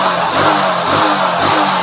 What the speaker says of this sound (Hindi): बाइक थोड़ा में स्टार्ट ले रहा है देखो, और बाइक में पिकअप इतना पिकअप है